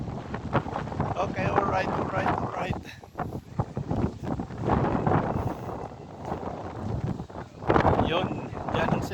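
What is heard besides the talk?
strong wind blowing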